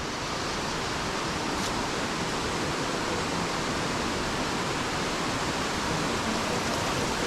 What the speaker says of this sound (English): Hear that water roaring.